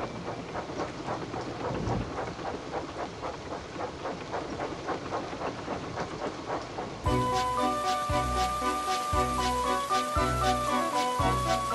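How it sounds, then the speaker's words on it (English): Heavy rain pours steadily in an animated Thomas and Friends railway story as Percy the little engine works along the line; after about seven seconds a bright orchestral music cue takes over. "The rain streamed down Percy's boiler."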